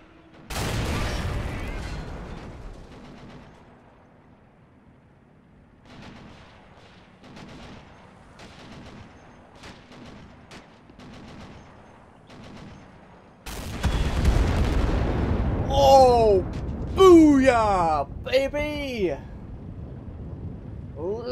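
Gunfire and artillery in a Normandy 1944 war video game, scattered shots and booms, a heavy burst of explosions and rapid fire later on, with someone talking over it.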